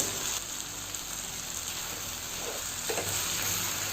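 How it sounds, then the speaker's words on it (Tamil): Steady, gentle sizzling of tomatoes sautéing in a pan for paneer butter masala, continuous with faint crackles and no talking. "இப்போ தக்காளி நல்லா சாஃப்ட் ஆகிற வரைக்கும் அது வதங்கணும்."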